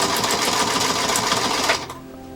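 A sewing machine runs steadily and loudly, stitching a seam for about two seconds, then stops abruptly, leaving a quieter room tone.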